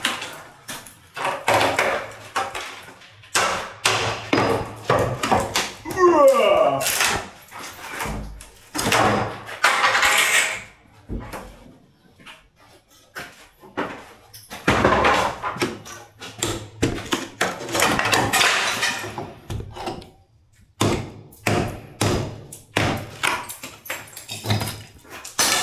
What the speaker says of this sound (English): We're gonna take this window frame out or door frame out real quick.